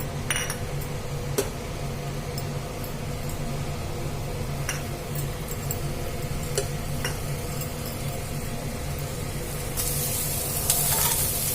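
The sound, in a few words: onion pieces frying in hot oil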